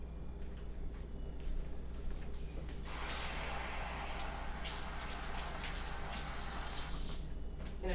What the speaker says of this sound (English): rinse it off in the sink.